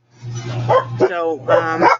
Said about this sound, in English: That's my dog barking up there.